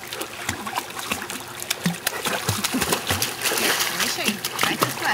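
An animal splashes while swimming, choppy uneven splashes and trickling water, fairly close, with a person talking encouragingly over the sloshing throughout.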